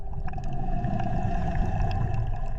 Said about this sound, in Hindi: वो एक अजीम व्हेल थी।